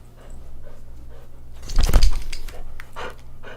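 A dog named Max pants and whimpers up close, with soft breathy huffs building to a louder burst of whining in the middle before trailing off into quieter panting.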